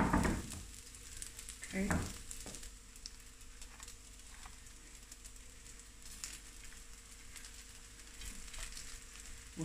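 Prawns sizzle in a hot pan for a garlic and chilli prawn stir-fry, a steady crackling fry that lasts the whole time with a couple of brief clatters early on and a short spoken word.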